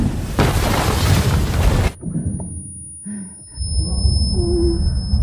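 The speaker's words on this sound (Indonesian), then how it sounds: "informan menginjak ranjau yang telah dipasang mengakibatkan ledakan" A landmine explosion: a loud, broad blast roars for about two seconds, then cuts off abruptly, leaving a ringing tone and low, muffled rumbling.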